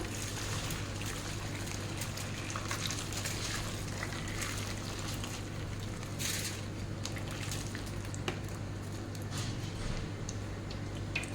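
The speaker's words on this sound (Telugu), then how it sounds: "ఇప్పుడు హాట్ వాటర్ వేస్తున్నాను" Hot water poured into a pot of vegetables on a stove, a steady trickling and bubbling wash with light ticking clinks, continuous and fairly close with no talk.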